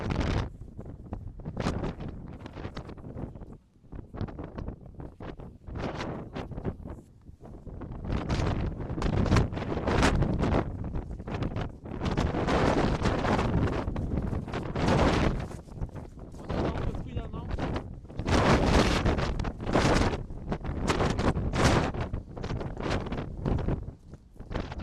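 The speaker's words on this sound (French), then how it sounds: "Le vent a soufflé en rafale à près de 140 km/h." Gusts of wind near 140 km/h batter the microphone on a frosty, snow-covered height in Languedoc, loud rumbling buffets that surge and drop repeatedly over most of the stretch, with a voice talking underneath.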